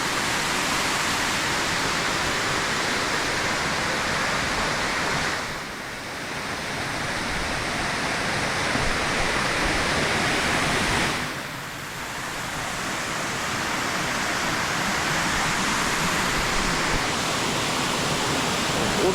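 Spruce Flats Falls, a waterfall running high, roars in a steady, dense rush of falling water that fills the scene, with two brief dips in level.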